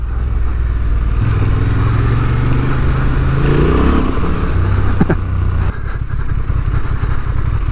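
A 2023 Honda Transalp XL750 adventure motorcycle under full throttle, its engine droning loud and close with a rising rev, then a sudden drop as power cuts and a rough, clattering idle.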